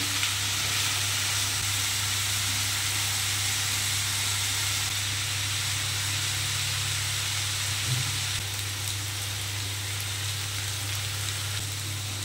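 Potatoes fry and sizzle steadily in a pan for the whole stretch, a continuous close hiss with faint stirring scrapes and a low steady hum underneath, no voices.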